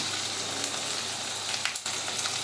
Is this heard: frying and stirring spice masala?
yes